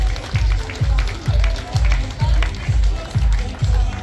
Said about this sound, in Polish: Wielkie brawa dla pani Grażyny.